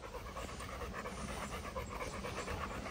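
A calm dog out walking in a forest pants rapidly and rhythmically close by, a soft steady breathy panting with no talking.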